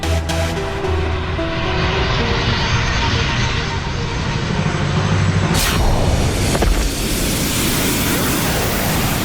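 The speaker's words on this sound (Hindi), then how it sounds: "अब मैं इस विमान की गति इतनी तेज कर दूंगी" Fixed-wing aircraft engine roaring loudly and steadily in a TV fantasy show scene as the plane speeds up, with a rising whoosh partway through and a voice speaking over the drone.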